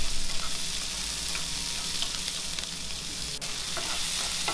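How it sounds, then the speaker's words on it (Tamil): Chopped tomatoes sauté with curry leaves in a pan for bitter gourd curry, giving a loud, dense, unbroken sizzle close up. "தக்காளியை சேர்த்துட்டு நல்லா மசிஞ்சு வர வரைக்கும் இதை வதக்கிக்கலாம்"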